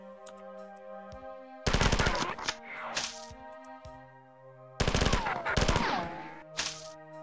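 Video game guns fire in Marathon in two loud bursts of rapid automatic shots, each followed by ringing echoes and scattered cracks over a steady musical drone.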